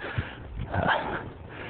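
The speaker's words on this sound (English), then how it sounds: "I just had a little tiny dog try to attack me." A very small dog yaps and whimpers briefly on a hiking trail, a few short, fairly close barks with no talk over them.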